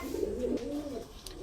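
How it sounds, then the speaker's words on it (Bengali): Pigeons cooing softly at close range, a single low rolling coo lasting about a second with no talk over it. "দেখেন কোয়ালিটিফুল কবুতর।"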